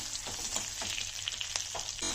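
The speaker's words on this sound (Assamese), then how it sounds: "পিঁয়াজ আৰু নহৰু অকণমান দি দিলোঁ সামান্য।" Onion and garlic sizzle and crackle in hot oil with cumin, in a pan previously used to fry fish for a fish curry, a steady close hiss broken by quick stirring scrapes.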